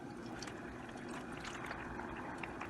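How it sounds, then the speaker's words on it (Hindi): Boiled pasta tipped into a pan of white sauce, giving a soft, wet, continuous sloshing and pouring sound close by, quiet and steady throughout. "अब पास्ता डाल देंगे इसमें। पास्ता हमने 10 मिनट तक बॉईल किया था।"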